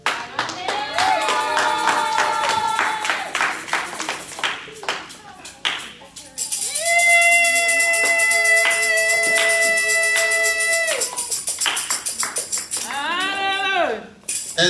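A congregation at a church service applauds with dense, sustained clapping and joyful cries, loud and close, fading briefly in the middle before surging again.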